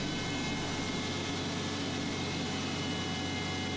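A jet's landing gear retracts slowly on hydraulic power during a ground gear swing test at reduced pressure and flow, giving a loud, unbroken mechanical hum and whir with no pauses.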